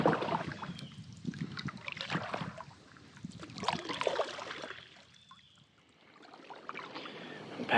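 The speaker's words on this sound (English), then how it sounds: "Paddling so hard and making my back hurt." A boat paddled on water during an Alabama bowhunting outing, heard as soft repeated strokes and splashing trickles that swell and ease in a steady rhythm, fairly close and moderately quiet, with no talking.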